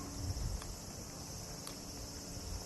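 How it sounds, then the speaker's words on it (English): A steady, dense cicada buzz fills the air in Tokyo, a continuous droning chorus with a faint rustle underneath and no voices. "Cicadas, yo!"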